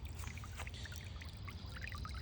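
Water from an outdoor feature splashes and trickles steadily into a whiskey barrel garden pond, a close, continuous bubbling pour with no voices.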